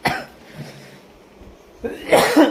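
A woman coughs in short, rough bursts at the start and again near the end, with faint background noise between them.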